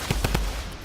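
Laser shots fired in a solo arena battle video game, a few quick sharp blasts in rapid succession near the start, then a steady low rumble of game sound.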